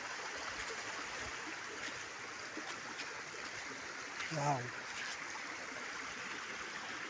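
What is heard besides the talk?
spring water flowing in a stream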